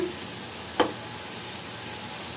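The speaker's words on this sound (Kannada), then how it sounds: "ಇದು ಇವಾಗ ಗೋಲ್ಡನ್ ಫ್ರೈ ಆಗಿದೆ" Potato french fries cook in hot oil on a gas stove, giving a faint, steady frying hiss with one brief sharp clink partway through.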